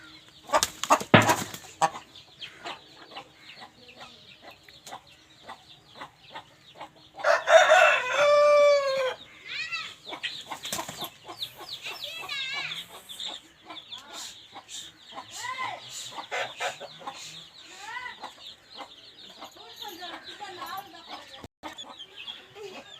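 A short-nosed, long-tailed rooster crows loudly once, with scattered clucks and wing flaps before and after, under faint talk and background chatter.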